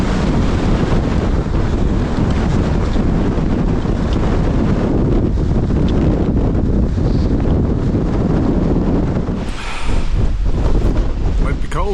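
Strong wind gusts at Grayson Highlands State Park on a cold day, roaring continuously against the microphone with heavy low rumble, briefly easing near the end where a faint voice and rustle come through.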